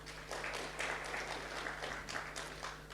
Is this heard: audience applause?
yes